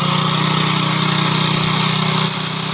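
A fuel-injected Hero Glamour Fi BS6 motorcycle with a misfiring problem idles steadily up close, its even mid-pitched engine hum holding a constant rhythm with no voices.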